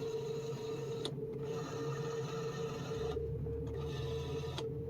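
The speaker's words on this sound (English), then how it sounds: "The rear view mirror adjustment also works." Electric rear view mirror adjustment motor in a 1995 Mercedes S600 W140 V12 coupe, a steady mechanical whirring hum with brief pauses and clicks, running continuously and close.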